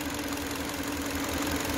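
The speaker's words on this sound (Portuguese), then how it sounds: "A gente sabe que esse carro tá trabalhando com três cilindros." A Kia Sportage engine runs rough on three cylinders, a steady uneven idle with a low pulsing knock and vibration, heard close and continuous.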